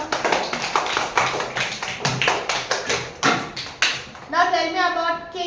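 A class of young children clapping together, a run of quick claps in uneven bursts, followed by a voice speaking.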